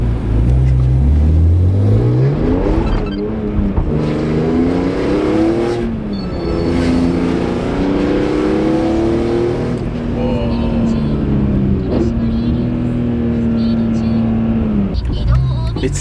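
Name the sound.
Nissan R34 GT-R engine under power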